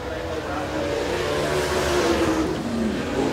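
A super late model race car roars around Smoky Mountain Speedway during qualifying, its engine note rising and swelling as it passes, with an announcer talking over it.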